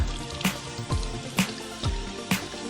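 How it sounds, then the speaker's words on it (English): Running tap water from a faucet during handwashing, a steady trickle with soft, regular splashes and drips at close range and no voices. "it's very important to wash your hands before you start cooking"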